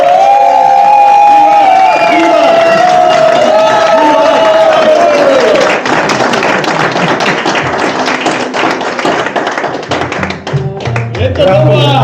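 An audience at an award event breaks into dense, loud clapping about halfway through, after a voice speaks, and the applause carries on to the end.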